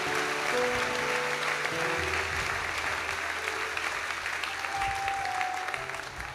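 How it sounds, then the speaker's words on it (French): A church congregation clapping their hands, dense continuous applause from a crowd, fairly loud and steady, with some voices and a faint sustained tone underneath. "Clap your hands to the Lord."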